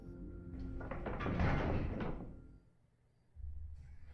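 A door in a video game slides shut and locks with a loud mechanical whoosh and heavy clunk that swells and then fades, followed by a brief low hum.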